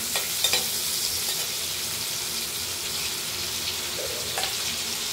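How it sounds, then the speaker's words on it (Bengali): Potatoes frying in a pan for a cauliflower, potato and tomato curry, with a steady sizzle throughout and a few clinks of a spatula stirring, close and continuous with no talk. "আলুগুলো একটু লাল করে ভেজে নেব।"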